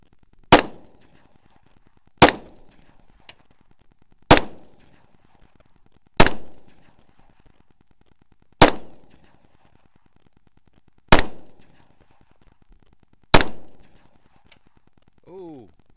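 Seven loud, sharp SCCY CPX-2 pistol shots from a third magazine ring out one by one, spaced about two seconds apart, each with a short decaying echo, and a brief voice sound comes at the end.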